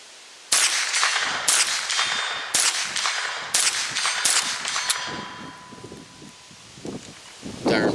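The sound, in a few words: Ruger 10/22 rifle shots at 50 yards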